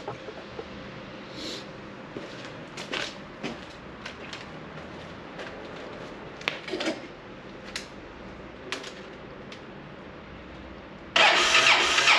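A Honda motorcycle with a dented, scratched tank after a crash is cranked repeatedly, with faint starter bursts over a low hum and a louder mechanical burst near the end, the engine never catching.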